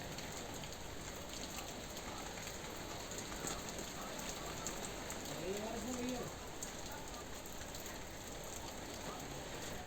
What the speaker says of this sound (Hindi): जो छुटपुट जगहों पर बारिश हुई है उसकी वजह से थोड़ा मौसम सुहावना हो गया